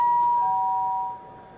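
A doorbell rings at night, captured by a doorbell camera: a clean two-tone electronic ding-dong close to the microphone, ringing out and fading over about a second against a faint background hiss.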